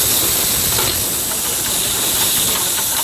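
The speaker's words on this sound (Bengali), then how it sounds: "গরম হয়ে গেলে গোটা জিরে, শুকনো লঙ্কা এবং দারচিনি, তেজপাতা ফোড়ন দিয়ে আর একটু আদা বাটা দিয়ে দেব।" Whole cumin, dried chilli, cinnamon, bay leaf and ginger paste sizzle in hot oil for a Bengali fish-head dal, a steady loud hiss and crackle running without pause.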